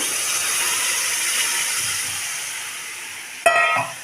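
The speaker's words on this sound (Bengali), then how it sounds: "এবার ডালটা ঢেলে দিলাম" Mung dal tipped into hot spiced oil with sugar and garam masala: a steady bright sizzle runs throughout, then a sudden louder hissing burst near the end as the lentils hit the pan.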